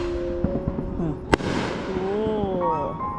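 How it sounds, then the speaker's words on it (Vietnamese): A single sharp firework crack from low fireworks set off by children at a Fourth of July gathering bursts out near the middle, over steady background chatter and voices. "mấy đứa nhỏ giơ pháo à, thấy không? Pháo thấp thấp thấp thấp."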